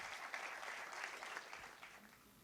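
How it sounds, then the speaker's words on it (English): An audience applauds steadily to welcome a speaker at a university panel discussion, a fairly quiet, distant wash of clapping that holds through and tapers slightly at the end, with no voices over it. "Let's welcome him with a huge round of applause."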